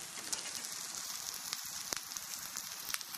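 Sorrel leaves wilting in a hot pan give off a steady, fairly quiet sizzle with scattered crackles and pops, heard close up with no talking.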